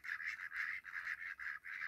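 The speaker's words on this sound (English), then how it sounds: "The ducks in the background." Ducks or geese on a French farm give a run of repeated nasal honking calls, about six bursts in close succession, fairly near and with no talk.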